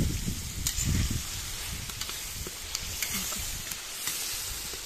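Boiling water is poured into plov cooking in a kazan over an outdoor mangal, producing a steady hiss and sizzle with bubbling and some light wind noise, close and continuous.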